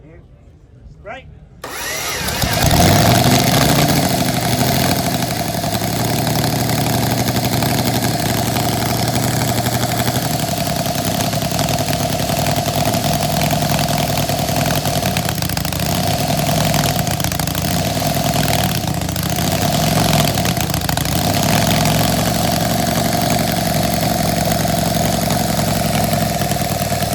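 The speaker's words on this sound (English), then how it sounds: "You heard the engine right back and right off." A custom five-cylinder motorcycle engine fires up at a custom and classic bike show, then settles into a loud, steady idle that runs throughout with slight wavering, while people talk nearby.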